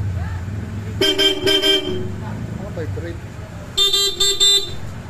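Horn on a Honda ADV 160 scooter, fitted with a selector, sounds in two loud bursts of paired blasts separated by a pause, with someone talking between them.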